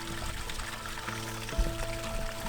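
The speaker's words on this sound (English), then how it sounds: "Sounds like a little river." A small stream of running water on boggy Dartmoor moorland gives off a continuous, gentle babbling trickle, steady and fairly close, with no voices over it.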